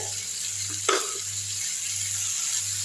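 Mint leaves and chopped tomatoes sauté in a pan for a roadside-style tomato mint chutney, giving a soft, steady sizzle under a low electrical hum, with one brief clink of a spoon stirring partway through.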